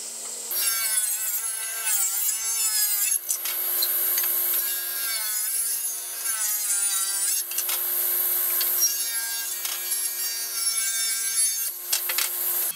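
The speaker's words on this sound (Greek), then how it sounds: "πάμε σιγά σιγά να κόβουμε τα μεγέθη που χρειαζόμαστε" Beech wood being cut to size with a saw, a steady, close and fairly loud rasping stroke repeating continuously for several seconds with brief pauses, no voices.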